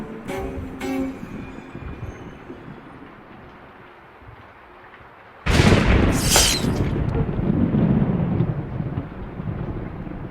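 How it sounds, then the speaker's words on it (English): A nearby lightning strike unleashes a sudden loud thunderclap with a sharp crack, then a heavy rumbling roar that keeps going over steady rain and storm noise, with no one speaking. "Lightning struck not far away."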